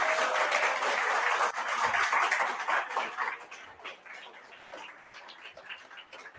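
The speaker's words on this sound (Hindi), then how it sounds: "खुद के लिए तालियां बजा लो यार, बहुत लोगों के लिए बजाई हैं।" A classroom of students claps for themselves, a dense burst of applause that loudly fills the opening seconds, then thins into scattered, uneven claps as it dies away.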